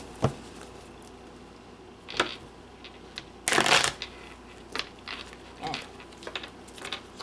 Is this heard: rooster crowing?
no